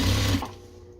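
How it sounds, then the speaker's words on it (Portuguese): Sewing machine topstitching the outer edge of a fabric patchwork pencil case, clear of the lining: a steady loud whirring run that cuts off partway through, leaving a faint fading hum. "Vou passar o pesponto só na parte de fora, livrando o forro."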